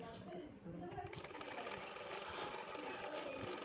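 Sewing machine running steadily while stitching the folded bottom hem of a petticoat, a continuous close whirring drone throughout, with a voice faintly underneath.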